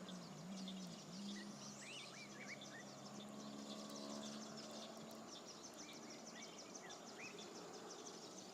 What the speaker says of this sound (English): so you can listen to the birds.